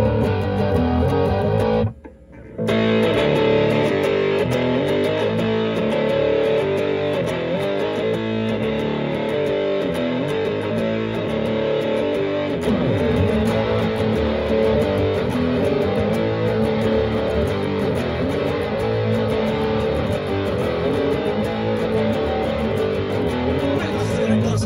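An electric guitar part plays alone with a heavy distorted tone, sustained chords running continuously at strong level after a brief drop near the start.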